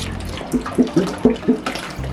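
A full gallon of 2% milk pours into an Instant Pot pressure cooker, giving an uneven liquid splashing and glugging with several distinct pulses over a couple of seconds, close and moderately loud with no talking.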